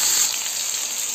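Green chili and potato frying in hot oil seasoned with cumin and bay leaf, a steady close hiss of sizzling with no talk.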